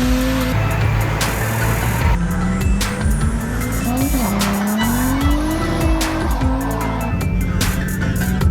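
An Oldsmobile Cutlass Cruiser wagon, pulled out of the weeds as a project car, runs loud and close with a rough engine drone whose pitch rises and falls as it is revved, and squeal-like tones sit over the rumble.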